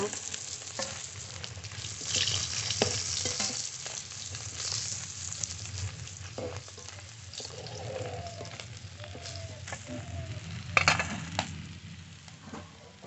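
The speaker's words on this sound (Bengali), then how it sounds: "মাছ ভালো করে ভেজে নিয়েছি" Pieces of a large rohu fish sizzle steadily in hot oil in a kadai, a continuous close crackle and hiss broken by occasional stirring scrapes and a light clink of utensils.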